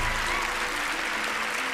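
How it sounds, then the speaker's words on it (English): Dense, steady applause from a TV magic show studio audience fills the whole moment, with no voices standing out. "Please give a big round of applause for Bill"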